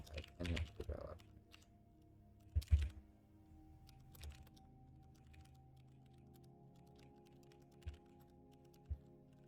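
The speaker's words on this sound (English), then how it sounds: "Wow, I can't type." Computer keyboard typing, faint irregular clicks in a quiet room with a few louder key strikes near the start and scattered taps later over a low steady hum.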